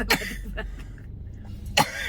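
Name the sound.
coughing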